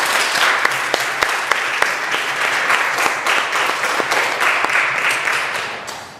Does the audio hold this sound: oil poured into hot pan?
no